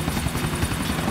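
A helicopter in the video game GTA IV drones steadily and loudly throughout, a constant rotor and engine hum with no voices over it.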